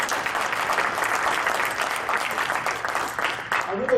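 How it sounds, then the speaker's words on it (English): Audience at a candidate forum applauding the moderator, continuous steady clapping that stays even and fairly loud, with voices mixing in underneath and near the end. "can we give the moderator a big round of applause as well?"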